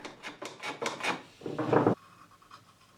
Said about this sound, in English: With a shooting board, I resized the strip to correct length.